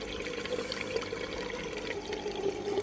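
Water flowing out of a perforated pond filter pipe on a pressurised pond filter, a steady gurgling, bubbling trickle with air mixed in, continuous and moderately close with no voices.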